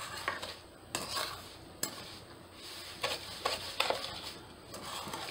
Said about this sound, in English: I'm going to go ahead and mix that up a little bit too